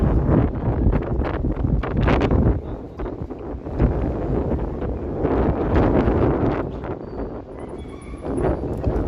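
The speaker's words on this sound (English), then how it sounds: "Breezy for sure." Breezy wind outdoors in downtown Toronto buffets the microphone in continuous gusty rumbles that swell and ease, with faint street activity underneath.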